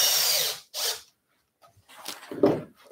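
A power screwdriver drives screws into a wooden Adirondack chair in short bursts, loud whirring runs separated by pauses, ending with a clunk as a screw seats.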